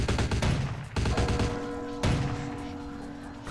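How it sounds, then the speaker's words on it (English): Gunfire in the video game Vampire The Masquerade: Bloodlines, with loud, rapid shots rattling in quick bursts, close and punchy, broken by brief pauses and a final thump at the end. "Oh, somebody's shooting."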